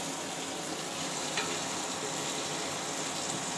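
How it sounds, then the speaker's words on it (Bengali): A spoon or spatula stirs cooked food in a pan, with a steady sizzling, frying hiss and soft scraping throughout and no talking. "রান্না হয়ে যাওয়ার পরে আমার মেয়ে এসে আবার নাড়ছে"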